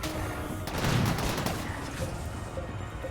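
Defensive turrets in RimWorld fire at raiders in a dense burst of gunfire over a constant loud background, with a heavier thump partway through and no voices.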